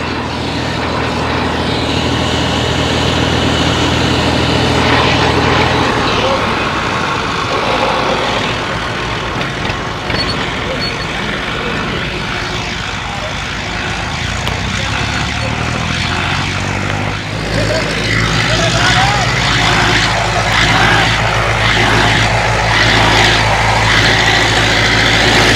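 A tractor engine drones steadily and loudly while powering a laser land leveler with a separate PTO system, its pitch shifting as the leveler blade moves up and down; a constant, close mechanical roar with no voices.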